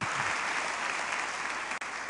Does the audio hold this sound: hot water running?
no